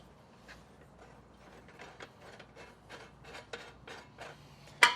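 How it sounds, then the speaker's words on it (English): Wing nut on a propane cylinder service hose on a TAXA Cricket trailer being loosened by hand, giving soft rasping, ratcheting metal clicks and rubbing at close range, ending in a sharp clack. "We're going to loosen up our wing nut here."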